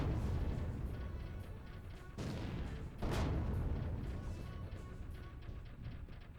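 Heavy explosions boom in a dense battle din in the game Particle Fleet, with a sharp blast near the three-second mark standing out over continuous rumbling gunfire.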